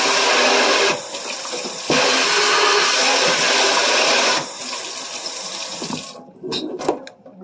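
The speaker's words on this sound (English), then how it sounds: "Rinsing out the sink now." Water from the tap gushes loudly into a kitchen sink during rinsing, a steady close rush with slight shifts in force, then breaking into splashes and drips as it ends.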